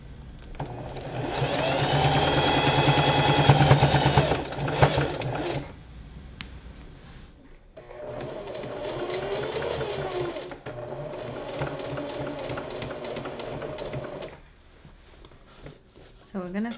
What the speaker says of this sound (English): we sew all the way from our arm all the way down to the end of our dress